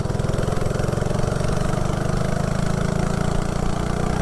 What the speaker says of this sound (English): hopefully the mini bike expert's right and this thing runs good because I don't want to get stuck down here